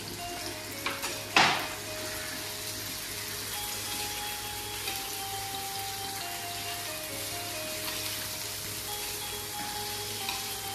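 Onion and tomato frying in a pan for a village-style prawn fry, giving a steady, close sizzle throughout, with a couple of sharp clicks near the start.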